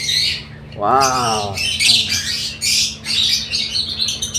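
Baby bird chicks squawk loudly during harvesting, with repeated harsh, raspy cries and one long rising squeal close by, while a person briefly exclaims.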